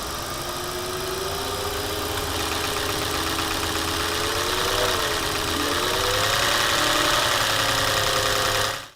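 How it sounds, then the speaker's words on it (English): A car engine idles with rattling intake manifold flaps, a steady mid-pitched hum with a faint metallic rattle and a slight rise in revs, continuous and close until it cuts off at the end, no talking. "This rattle indicates excessive play or broken bits in the intake manifold flap mechanism."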